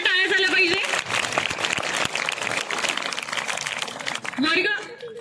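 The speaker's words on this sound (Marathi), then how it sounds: "जोरदार टाळ्या झाल्या पाहिजे" Students at a school mathematics day celebration break into loud, sustained applause, dense clapping filling the room while a voice speaks over it at the start and end.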